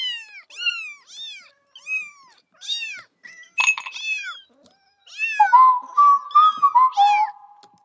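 A cat meows repeatedly in short, close, clear calls, pausing between them before a run of longer, more insistent yowls near the end.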